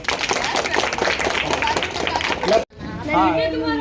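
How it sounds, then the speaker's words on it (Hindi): Children in a government school classroom clap loudly together amid excited chatter, then the clapping stops abruptly and a voice carries on speaking. "सब लोग ताली बजाइए।"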